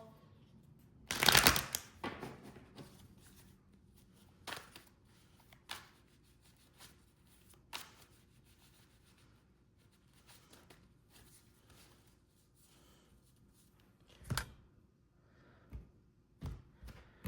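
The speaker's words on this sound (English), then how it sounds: "Now, I will shuffle the tarot just for the good of the cause, so you know they're shuffled." Crisp riffling bursts of tarot cards being shuffled, one loud flurry early then softer scattered flicks and snaps spread through an otherwise quiet room.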